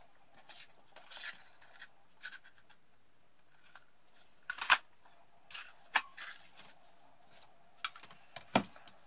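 Quiet, close scissor snips and paper rustles while cutting patterned paper, irregular small cuts and scratches spread across the stretch with brief pauses.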